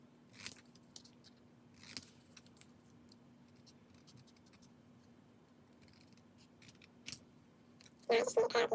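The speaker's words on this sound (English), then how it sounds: "Now let's cut out the other foot." Scissors cut out a paper craft turkey foot: a few faint, isolated snips spaced several seconds apart, then a quick run of louder, closer cuts at the end.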